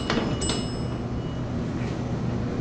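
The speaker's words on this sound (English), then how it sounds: "Door clutch just clunked." A vintage Otis Lexan traction elevator at 24 Greenway Plaza in Houston gives a couple of brief mechanical clunks from its door clutch right at the start, followed by a low, steady cab hum.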